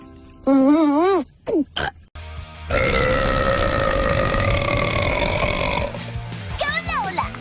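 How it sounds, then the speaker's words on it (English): A female cartoon character lets out a long, loud, drawn-out burp, followed by more cartoon voices and brief belch-like sounds. "Biggest burp!"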